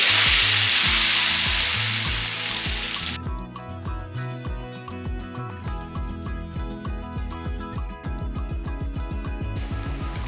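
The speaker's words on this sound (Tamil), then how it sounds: "அந்த சூட்லேயே உளுந்தம்பருப்பு எல்லாமே நல்லா பொறிஞ்சிடும்" Urad dal, curry leaves and dried red chillies crackle and fry in hot oil for a Tamil kootu tempering, a dense close sizzle with rapid popping and spattering that keeps a steady rhythm throughout.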